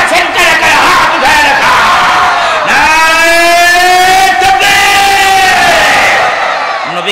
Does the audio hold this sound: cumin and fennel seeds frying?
no